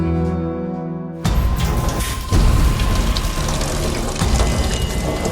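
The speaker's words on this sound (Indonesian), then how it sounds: "Kok ada suara air ngucur ya?" Water gushes from a household tap in a home, a loud, steady broadband rush that starts abruptly after a short stretch of tonal music and continues to the end.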